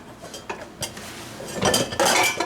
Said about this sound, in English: He's washing dishes.